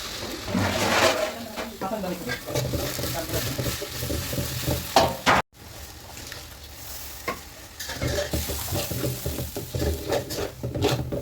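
Onion paste sizzles in mustard oil in a pan of fried onions, a loud close crackle with repeated scraping stirs and a brief break partway through; no one speaks over it.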